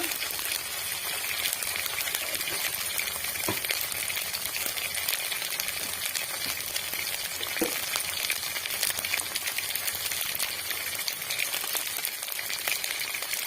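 Spices with cumin powder sautéing in a pan, a steady close hiss and sizzle with faint scattered clinks, no one talking.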